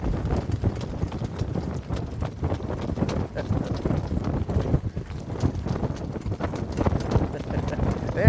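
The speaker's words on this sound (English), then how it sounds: "There he goes. The jailhouse master. We got him trotting now." A colt trots on a training stable track, its hooves clip-clopping in a steady, close rhythm over wind noise while people talk over it.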